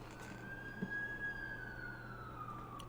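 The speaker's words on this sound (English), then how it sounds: "That's the ambulance I called." A distant ambulance siren in The Amazing Spider-Man 2 video game holds a steady, slowly gliding wail throughout, faint and alone under a low hum.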